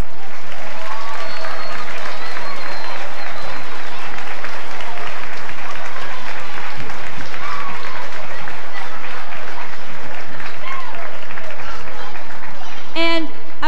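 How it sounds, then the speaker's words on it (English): Audience applause for the cast of a 1997 elementary school production of Tom Sawyer, steady clapping from a room of parents sustained for over thirteen seconds, with a few voices faintly mixed in. "could the whole cast please stand for a round of applause"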